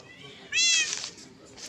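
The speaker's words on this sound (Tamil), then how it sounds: "ஐயோ பூனை, நீ இங்கே தான் இருக்கியா?" A single video game cat meow, clear and close, rising and falling over about half a second, with quiet talk and background noise around it.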